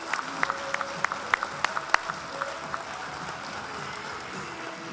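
Audience applause fills a hall at a health awards ceremony, a steady wash of clapping with a few sharper claps standing out near the front.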